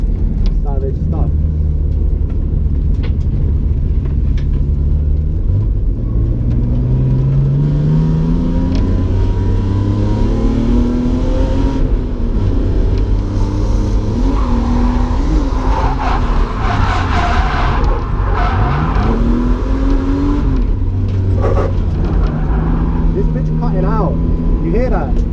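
Drift car at Driftland UK, its engine revving hard and wavering in pitch through the runs, loud and close from inside the car for about twenty-five seconds, with a voice heard over it.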